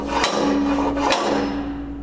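The chuck of a Merax Z1T-R4 electric pipe threader is struck to hammer-tighten it onto galvanized pipe, two sharp metallic knocks about a second apart over a steady motor hum.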